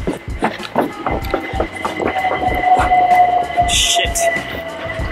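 A train rumbles past close by with rapid rhythmic wheel clatter on the rails and a steady squealing tone, loud and continuous, with a brief high screech near the end.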